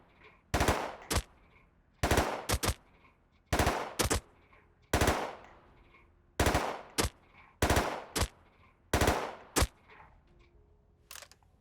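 Gunfire from shooting at enemies in the video game Rust, fired in eight evenly spaced bursts of two or three sharp, loud shots, each burst followed by quiet.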